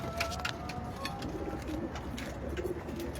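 Pigeons coo repeatedly in an open loft, soft throaty calls close by over a steady low background murmur, with no talk.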